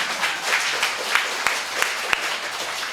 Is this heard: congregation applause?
yes